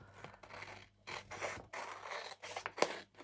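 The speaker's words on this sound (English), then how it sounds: "Now, you can use a craft knife to cut this." A craft knife slicing by hand through a postcard, several short scraping cuts in separate strokes with pauses between, close and fairly quiet against a faint steady hum.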